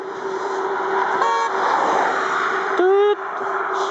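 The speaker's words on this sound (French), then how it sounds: "Ouais, ils klaxonnent beaucoup les Turcs," Car horns honk in busy Turkish road traffic along a cycling route in Anatolia, with two distinct toots, a short one and then a longer, louder blast, over steady traffic noise.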